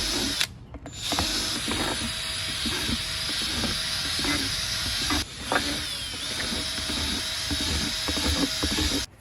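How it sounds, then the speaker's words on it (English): A tiny drill bit bores aeration holes into the sides of a plastic worm composting bin, making a continuous whirring, ratcheting drill noise with short pauses between holes, close and fairly loud. "we're gonna do a tiny drill bit and we're gonna do aeration holes so the worms can breathe"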